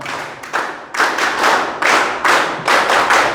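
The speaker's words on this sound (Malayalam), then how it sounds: "ഞാനൊരു 1 2 1 2 3 കൈയടിച്ച് കാണിക്കാം." An audience claps in unison in a short-long pattern, two quick claps then three, repeated several times in close, loud, crisp bursts with no talking.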